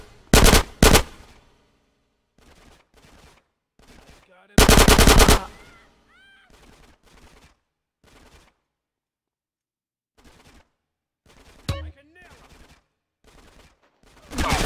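Machine gun fire in the video game Grand Theft Auto San Andreas: two loud, close bursts, one short near the start and a longer one a few seconds later, separated by quieter stretches of voices and a few faint shots.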